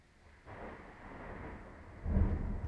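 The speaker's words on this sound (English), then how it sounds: "Wow, there's like a thunderstorm outside." A thunderstorm rumbles outside, heard from indoors as a low, muffled roll that builds gently and then swells into a louder, deeper peak near the end, with no voices over it.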